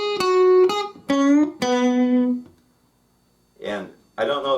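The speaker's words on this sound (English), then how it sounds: "he's going to do this little hammer-on pull-off thing, which I'm not sure exactly what he's doing, but it sounds something like this" A guitar plays a short hammer-on pull-off lick from a blues solo, made of a few clear picked notes that ring and then fade, followed by brief sounds at the end.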